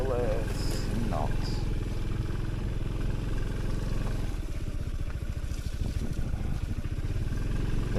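Adventure motorcycle ridden on icy February roads, its engine droning steadily close to the microphone throughout, with a rougher, pulsing throttle note toward the end.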